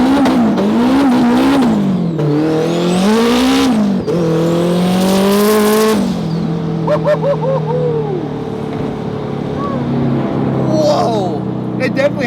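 A Spoon Sports Honda S2000 accelerates hard on public roads, its engine climbing through high revs with quick upshifts and rising pitch, loud from inside the car while passengers shout and talk over it.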